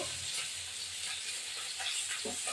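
Koi fish sizzle steadily in hot oil, a continuous close, soft frying hiss with no voices.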